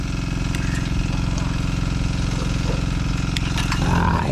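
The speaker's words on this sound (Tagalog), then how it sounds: "Sariwang simoy ng hangin, ingay ng makina." A small motor runs steadily nearby with a rhythmic, chugging idle, a few faint clicks and sounds over it, and a brief rise near the end.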